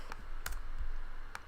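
A keyboard shortcut is tapped on a computer keyboard, a few quick light clicks in a short cluster, close and quiet with no speech.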